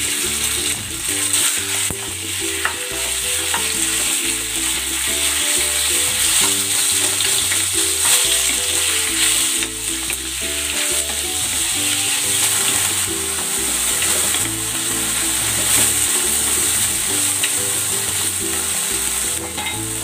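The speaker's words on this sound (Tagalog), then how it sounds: "Paglalagay ako ng cooking oil, i-stir fry ko muna itong pork." Pork stir-frying in hot cooking oil in a pan, a steady, loud sizzle and crackle that runs unbroken throughout, with no voices.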